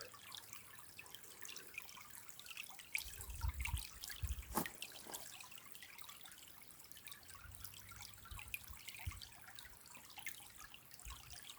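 Water trickles and drips through a gold prospecting culvert sluice in Wisconsin. Faint, uneven dribbling runs throughout, with a few louder splashes and knocks near the middle.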